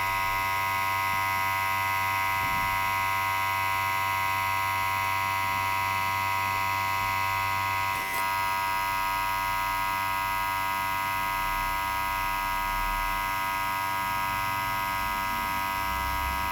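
Tattoo machine buzzing steadily as it works ink into skin at shallow depth, a constant close electric hum with a brief click partway through, no talking.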